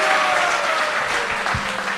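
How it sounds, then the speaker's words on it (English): An audience at a special devotional event applauds, a dense, even burst of clapping that holds steady and fairly loud for the full two seconds without talk over it. "Give a big round of applause."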